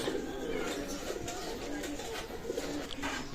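Pakistani teddy pigeons coo softly and steadily at close range, with low, rolling calls repeating throughout under faint background noise.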